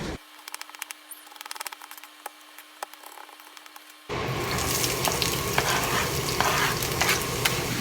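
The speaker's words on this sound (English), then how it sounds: "we're going to just pan sear the pork chops lightly" Breaded pork chops pan searing in a skillet: a quiet stretch of scraping and light clatter, then a loud, steady sizzle that bursts in midway and holds to the end, close and continuous with no talking.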